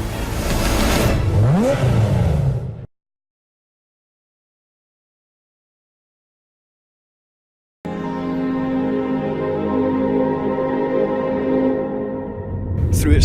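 Porsche Carrera GT racing engine revving hard, a loud rising howl that cuts off into silence for several seconds, then returns as a sustained high-pitched engine wail with no talk.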